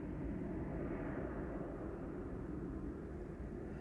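A jet airliner takes off from Amsterdam Schiphol Airport, a steady, broad engine roar at moderate distance that holds throughout without a break.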